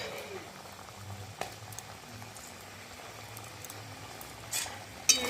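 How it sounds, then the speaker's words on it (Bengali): Chutney bubbling in a wok for a Bengali festive lunch, a steady low simmering texture with a few louder pops and clicks near the end, close by and without talk. "চাটনিটা ফুটে গেছে এবার দিয়ে দেবো আধখানা লেবুর রস"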